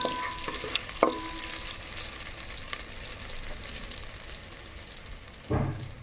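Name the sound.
butter melting and sizzling in a large pot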